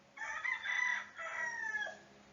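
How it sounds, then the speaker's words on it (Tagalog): A rooster crows in a long drawn-out call of two joined phrases, moderately distant and slightly thin, with no talk over it. "pati yung manok sumasagot din"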